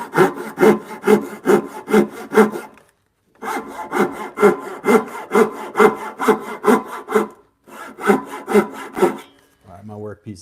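A hand saw rasps through timber along a marked line in a close-up woodworking workshop, steady rhythmic back-and-forth strokes in three bursts separated by brief pauses, loud and near with no talking.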